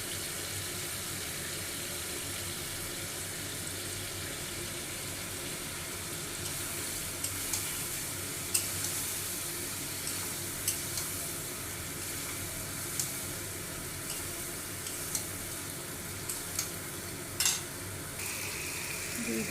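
Spice paste with dried chilli and yogurt frying in a pan for a Bengali potato and fish curry, giving a steady close hiss and sizzle throughout, with faint clinks and scrapes now and then.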